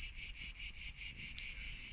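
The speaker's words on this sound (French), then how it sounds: "Vous entendez les grillons là." Crickets chirp steadily outside a villa in Corsica, a dense pulsing trill repeating in quick regular bursts, fairly close and unbroken, with no voices over it.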